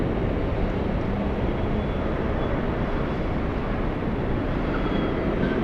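Embraer E175 regional jets taxiing at Los Angeles International Airport, a steady broadband roar of jet engines rumbling at a moderate distance, constant and unbroken with no voices.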